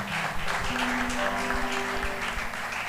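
A church congregation applauds steadily and loudly throughout, a dense continuous clatter of clapping with a sustained musical tone underneath.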